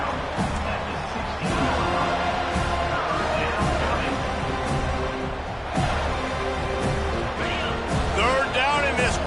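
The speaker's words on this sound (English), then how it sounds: "Third down, and this crowd is tearing the lid off this place" A packed college football stadium crowd roars loudly and continuously on a third down, with a commentator talking over the noise throughout.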